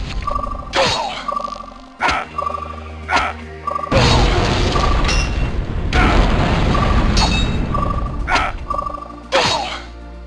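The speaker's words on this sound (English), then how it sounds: "The stairway has collapsed" A stairway collapses in the fantasy role-playing game Wizards & Warriors: a heavy, rumbling crash swells and holds for several seconds, set between short repeating tonal game cues.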